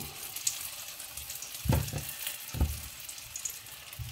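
Tofu dropped into hot oil in a pan gives a soft sizzle, with two brief louder bursts of spitting as pieces land, settling back to a quiet steady fry.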